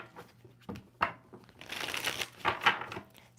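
A tarot card deck being shuffled at close range, with riffling bursts and soft slaps of cards coming in uneven waves, with no talking.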